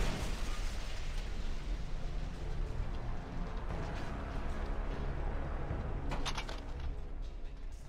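A tank blowing up in Fallout: The Frontier, a heavy sustained roar of explosion and rumbling debris that stays loud and dense throughout, with a brief crackling flare near the end and no voices.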